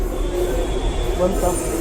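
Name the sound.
metro train arriving at station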